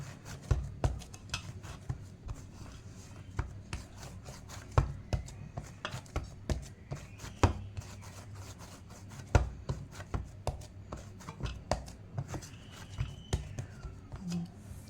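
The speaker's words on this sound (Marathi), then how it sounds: "बघा असं घट्ट मळायचं पीठ एकदम." Stiff dough for dhapate being kneaded by hand: a close, irregular series of soft thumps and slaps against a surface over a quiet kitchen background, with faint talk at times.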